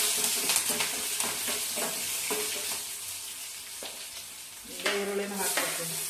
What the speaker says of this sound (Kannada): ಈಗ ಶುಂಠಿ ಬೆಳ್ಳುಳ್ಳಿ ಕಟ್ ಮಾಡೋದನ್ನು ಹಾಕ್ತೀವಿ